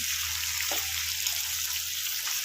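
Crab pieces frying over a high flame for crab kosha give a steady, loud, even sizzle that runs unbroken from start to finish, with no voices.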